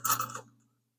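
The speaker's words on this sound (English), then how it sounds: "I should throw a washer on there" A single bright metallic clink as a washer drops onto a bolt during a Hemi Plymouth Duster build, a short close scrape that quickly fades into a low steady hum.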